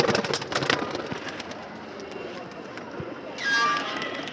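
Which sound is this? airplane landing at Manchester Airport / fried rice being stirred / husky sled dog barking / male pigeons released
male pigeons released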